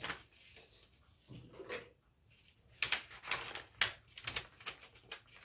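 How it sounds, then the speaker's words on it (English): Scissors cut through a paper skirt pattern with quiet, close snips and crisp crunches that come in uneven bursts, with a few soft paper rustles and pauses between cuts. "So I'll have to cut it out. I'll cut this part out."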